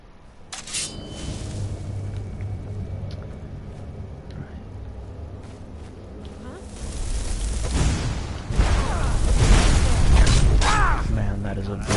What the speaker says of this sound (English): Man, that is a big explosion.